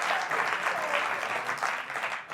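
A television studio audience applauds in a dense, continuous wash of clapping that stays loud for a couple of seconds and tapers slightly at the end.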